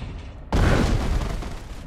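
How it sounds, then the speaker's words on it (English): A cannon fires in the video game Age of Wonders 3: one sudden, loud, deep bang that rolls off into a fading rumble, with no talk. "the satisfying bang of a cannon"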